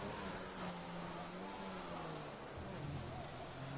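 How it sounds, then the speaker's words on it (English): A race car in a sim racing game at the Canadian GP drones steadily, its engine pitch stepping down through downshifts before climbing again, heard under commentary. "All the way down to first gear, short shifts to third coming out of the corner."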